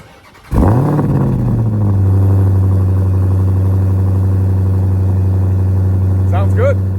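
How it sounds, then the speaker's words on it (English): Dodge Demon 170 supercharged V8 cranks and fires with a sudden loud bark, then settles into a deep, rumbling, steady idle, close by, with brief voices near the end. "So we'll go ahead and give it a start just so you can kind of hear it."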